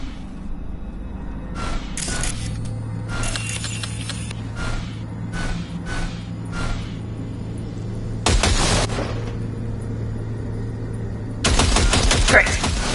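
Weapon calibration on a firing range in a video game: several separate loud bursts of automatic gunfire ring out between pauses, some short and some longer, over a low steady hum.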